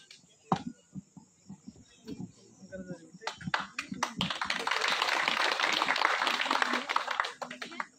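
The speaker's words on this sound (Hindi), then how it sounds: "एक बार उनका जोरदार तालियों स्वागत कीजिए" An audience at a Hindi-speaking public gathering breaks into loud, sustained applause that swells from scattered claps into a dense, steady roar before tapering off, with a voice over the PA at the start.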